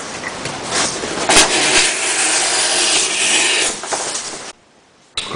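Fallkniven U2 knife blade slicing through 2-ply cardboard in a steady, close rasping drag lasting about four seconds, then brief silence before another cut begins.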